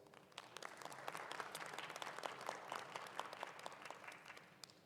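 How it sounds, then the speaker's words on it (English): A crowd at the 2021 University of the District of Columbia commencement ceremony applauds steadily. Sharp, overlapping claps come at a moderate, distant-sounding level with no talking over them. "Let's give them all a rousing round of applause."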